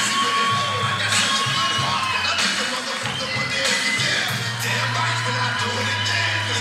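A crowd at a women's boxing bout between Meryem Uslu and Lisa Schewe cheers and yells steadily, with shrill shouts and whoops rising over a constant roar and a faint low hum underneath.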